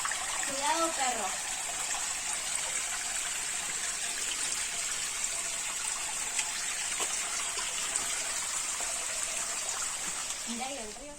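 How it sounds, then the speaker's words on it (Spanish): River water rushing steadily and loudly near a rocky trail in Brazil, a continuous broadband hiss, with a dog's brief whines or short vocal sounds at the start and end. "Mira ahí el río."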